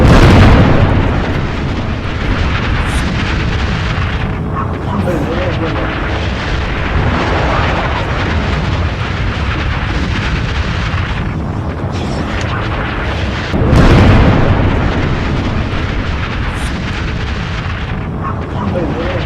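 Israeli strike on a Beirut university, a sustained roar of distant blasts and rumbling with a fresh heavy burst partway through, loud and continuous, with talk faintly under it.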